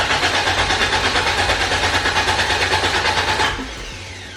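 An engine-swapped Toyota AE86 cranks over on its starter with a fast, even whirring chug for about three and a half seconds, then the cranking cuts off and leaves a quieter hum without the engine firing.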